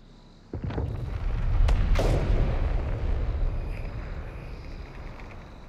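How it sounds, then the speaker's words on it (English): Heavy artillery guns in Company of Heroes 3 open fire in a sudden loud salvo of booming blasts, with sharp cracks near the start and a long rumbling roar that slowly fades. "I want all guns opening up."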